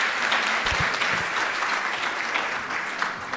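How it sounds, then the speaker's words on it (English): An audience at the Gauteng Funding Symposium 2025 gives sustained applause, a steady, even roar of many hands clapping at moderate volume, with a few low thumps near the start. "A warm round of applause for Nosipo, please."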